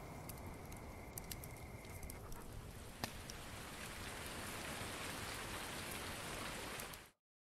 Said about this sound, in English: I was afraid of the rain because it's been sunny for a while